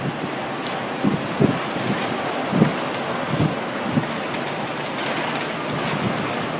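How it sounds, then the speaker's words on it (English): Powerful hurricane wind gust with driving rain during Hurricane Sandy, a dense roaring rush of wind and rain with buffeting bursts against the microphone, loud and continuous with no talking. "Here's the most powerful gust of the day."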